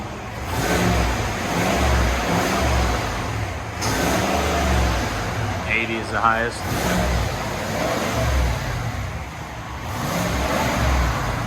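A stock 2021 GMC Sierra AT4 pickup's 6.2-liter V8 rumbles and revs in deep bursts, with a person talking briefly over the noise.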